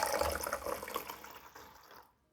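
About 300 ml of water pours into a bowl holding a batter mixture of egg and flour, a short close splashing stream that trails off and stops after two seconds.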